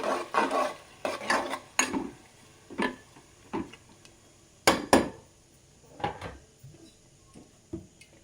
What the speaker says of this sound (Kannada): ಮಸಾಲೆ ಹಸಿ ವಾಸನೆ ಹೋಗೋವರೆಗೂ ಸ್ವಲ್ಪ ಫ್ರೈ ಮಾಡ್ಕೊಬೇಕು